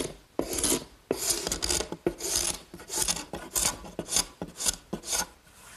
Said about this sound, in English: The scraper is really the best way.